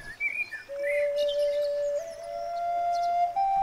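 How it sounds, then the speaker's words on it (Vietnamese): A bamboo flute in an animated Vietnamese fairy tale holds one long, clear note that steps slightly higher partway through, with faint chirping tones in the background. "Thì ra là một chàng trai đang ngồi thổi sáo."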